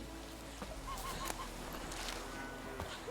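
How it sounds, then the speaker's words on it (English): A goose honks in The Witcher 3, a few short nasal calls over a steady low game ambience, fairly faint and with no talking. "Look at that goose go."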